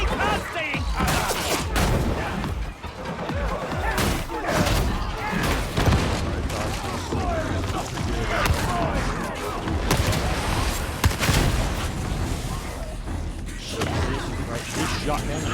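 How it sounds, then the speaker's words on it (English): Heavy, booming shotgun blasts and other weapon fire from the new Arbites class in Warhammer 40k Darktide, packed into a dense, continuous combat din, with voices talking over it throughout. "This shotgun is OP."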